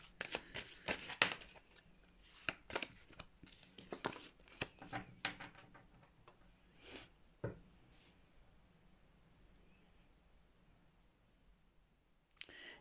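Tarot cards being shuffled and drawn on a table, a run of brisk riffling snaps and slaps at first, then sparser soft card slides and taps, close and quiet.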